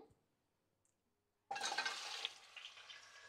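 Mutton trotters (paya) dropped into hot oil in a pan, a near-silent start giving way to a sudden loud, crackling sizzle that stays steady and dense to the end.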